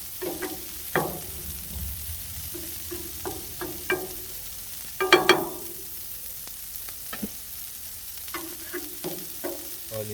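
Smashburger patties sizzle on a hot cooking surface alongside onions, a steady close frying hiss broken by occasional scrapes and clatters of a spatula, with no talking.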